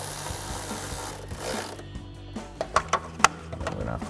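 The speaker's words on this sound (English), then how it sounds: "I'm gonna grab a 10mm socket and extension and tighten that bolt down." A 10mm socket on an extension ratchets a bolt tight during a cold air intake install on a 2024 Mustang GT, a steady rubbing drone giving way to a run of sharp close clicks near the end.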